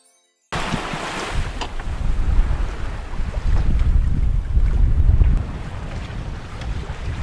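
A sailboat moving on the open sea, with rushing water, waves slapping the hull and gusty wind noise buffeting the microphone, steady and close after a brief silent start.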